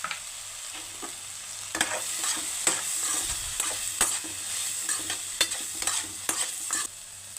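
Half-boiled noodles stir-fry with egg and vegetables in a pan, a low sizzle punctuated by repeated sharp clicks and scrapes of a spatula against the metal, close and uninterrupted by speech.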